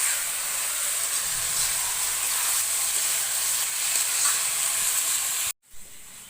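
Chicken pieces fry with Indian meat masala, coriander powder and cumin powder in a pan while cooking chicken and pulao, giving a steady, close hiss and sizzle that breaks off abruptly near the end, with no talking.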